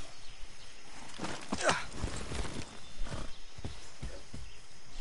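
Horse hooves in Far Cry 6 clop in an irregular walking rhythm against a constant background rumble, with a brief snort or whinny-like sound mixed in.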